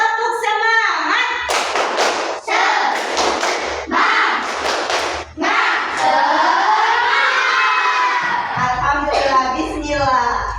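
A school class claps out the rhythmic tepuk semangat, sharp bursts of hand claps in quick groups, alternating with children's voices chanting and shouting along.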